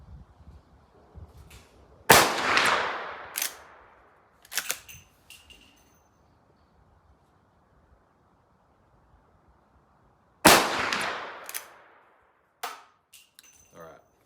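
A Rossi R92 lever-action rifle with a 20-inch barrel fires .357 Magnum at a range: two sharp, loud shots about eight seconds apart, each with a short echoing tail, followed by metallic clicks of the lever cycling.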